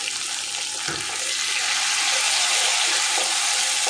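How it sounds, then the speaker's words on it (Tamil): Onions and tomatoes sautéing in a pan for chicken gravy give a steady, loud, hissing sizzle throughout, with a brief stirring scrape near the start. "இப்போ வெங்காயம் இந்த அளவுக்கு வதங்கினா போதும்"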